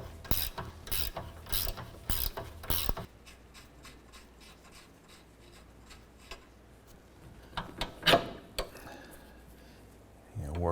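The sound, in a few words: ratchet loosening rusted strut nut, Honda Accord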